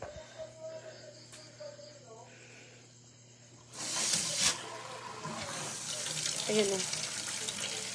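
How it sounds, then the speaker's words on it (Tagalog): A voice speaks briefly, then water from a tap starts running, gushing steadily and fairly close for the rest of the clip. "Mas malakas kasi yung tubig dun sa sa labas kaysa dito sa loob."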